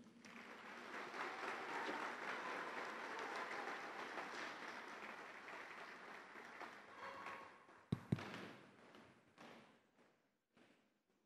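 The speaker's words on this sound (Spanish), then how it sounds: "los despedimos con un fuerte aplauso" Ceremony audience for the Presea Bernardo Quintana Arrioja award gives a loud sustained round of applause to the Hormigas de Azcapotzalco war band, thinning out into a few scattered thumps and claps before fading to quiet.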